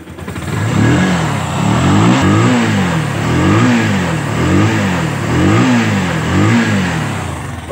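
A Kawasaki Rouser 180 motorcycle runs again after a repair, loud and close, its engine revved repeatedly in rising and falling pulls about once a second over a steady idle.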